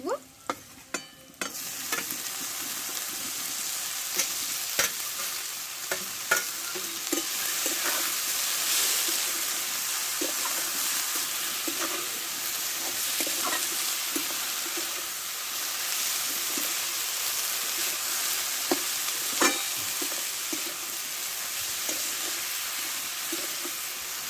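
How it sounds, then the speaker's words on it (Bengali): Drumstick (sajne) greens fry with onion and garlic in a hot pan, giving a dense, continuous sizzle with occasional stirring taps and scrapes. It is close and steady, and nobody speaks. "ভালোভাবে আমি পেঁয়াজ রসুন ফুলের সঙ্গে ভালো করে ভেজে নেব"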